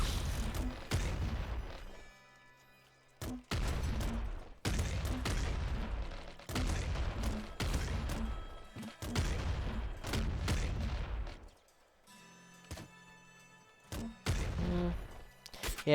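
Bursts of rapid gunfire and explosive booms from weapons in the top-down shooter Nuclear Throne come in repeated volleys separated by brief quiet gaps, loud and close.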